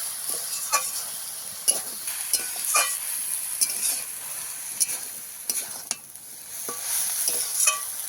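Kulekhara greens with cumin paste stir-fry in a pan, with scraping spatula strokes and soft crackling sizzle, close and fairly loud, accompanied by a constant high-pitched hiss.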